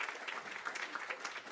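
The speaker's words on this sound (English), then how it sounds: "So yeah, you can clap for her." Applause from the audience at a philanthropy summit's closing remarks, a short, fairly quiet burst of dense, steady clapping throughout.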